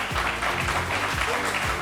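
A candidate's supporters applaud in a TV talk-show studio as he arrives, a steady mass of clapping with a few low thumps and some faint voices underneath.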